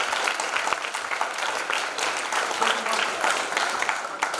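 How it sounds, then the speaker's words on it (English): A live audience claps after an improv comedy scene, a brisk, even patter of many hands that holds steady and fairly close for several seconds. "Big round of applause for Mr."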